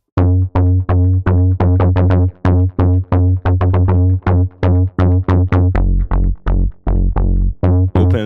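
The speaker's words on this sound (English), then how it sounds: "Bass Ray is this nice, kind of distorted acid sound" Distorted acid bass from the Bass Ray preset on a Diva synth, playing a loud, staccato run of plucky notes in a steady rhythm, alone with no talk.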